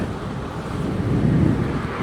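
Cold wind gusts across the microphone in a low, rushing rumble that swells briefly midway.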